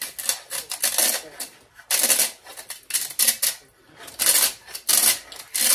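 Coarse cane sugar is ground and rubbed through a kitchen sieve, giving close, gritty scraping strokes in irregular bursts that rise and fall without pause.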